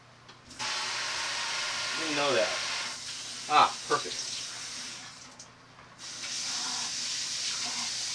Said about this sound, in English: You can push the button on the bottom to make it not spray.